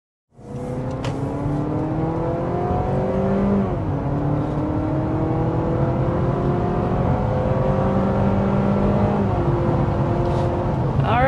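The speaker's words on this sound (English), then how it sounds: "the CR-V is notably faster to 60 miles per hour, and the extra torque is especially felt." A 2024 Honda CR-V hybrid accelerates hard toward 60 mph, its engine note climbing in rising sweeps with brief dips at shifts, loud and steady from inside the cabin with no speech.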